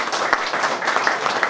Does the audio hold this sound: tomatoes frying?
no